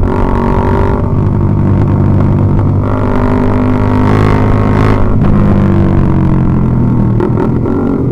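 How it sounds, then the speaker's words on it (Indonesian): Motorcycle fitted with a loud twin-silencer exhaust revving continuously at close range, a dense, roaring engine drone with rising and falling pitch throughout, no talk over it. "knalpot terberisik ini motor saya"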